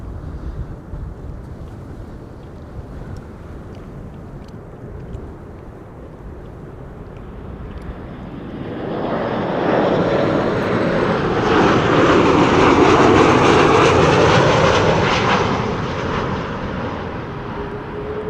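An airliner arrives at Amsterdam Schiphol Airport on a windy day, its jet roar swelling from a distant rumble through wind noise to a loud, broad, sustained pass before easing slightly.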